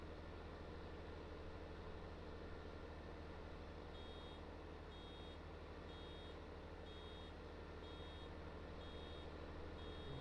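A vehicle's reversing warning beeper in Farming Simulator 19 sounds a regular series of short high-pitched beeps over a constant low engine hum during farm work.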